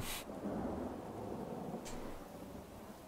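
A thunderstorm in the video game Three Fourths Home rumbles low and steady with a continuous rain wash, faint and distant, without talk.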